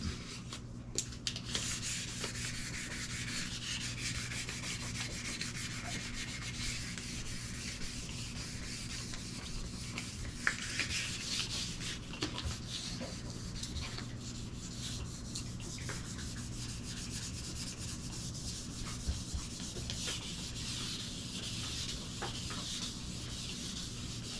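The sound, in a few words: sanding guitar part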